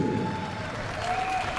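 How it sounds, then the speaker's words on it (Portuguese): An arena crowd applauds at the end of a round at a boxing event. The clapping is a dense, steady wash that lasts the whole moment, with a faint tonal sound running underneath. "Vamos aplaudir."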